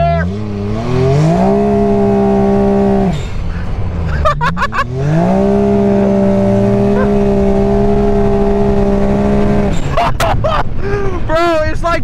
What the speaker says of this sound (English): It's literally just spinning these bad boys.